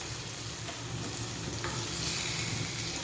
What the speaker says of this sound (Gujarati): અને તેને ઉપરથી અને નીચેથી બંને બાજુથી શેકી લઈશું.